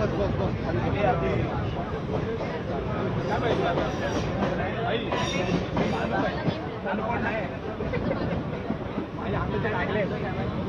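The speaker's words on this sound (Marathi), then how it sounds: "सध्या राज ठाकरे यांचा हा लोकलनं प्रवास सुरू झालेला आहे।" A crowded Mumbai suburban local train rumbles along between Dadar and Churchgate, its steady, dense roar and rattling filling the carriage while passengers talk underneath.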